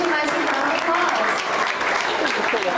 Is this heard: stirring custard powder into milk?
no